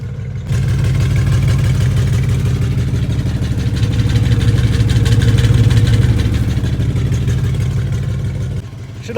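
A car engine idles steadily after starting, a loud, low, even rumble with a faint metallic buzz from a loose muffler underneath, running for several seconds before cutting off.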